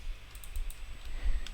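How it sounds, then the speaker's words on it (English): Quick bursts of keystrokes as random letters are typed on a computer keyboard, a handful of light clicks in small clusters, close and fairly quiet with no voice. "I'm just typing some random number, random letters"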